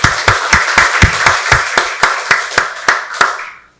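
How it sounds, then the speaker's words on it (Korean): A church congregation at Sunday worship clapping together in an even, rhythmic beat, about a dozen sharp, loud claps that stop abruptly. "박수로 하나님께 영광 돌리겠습니다"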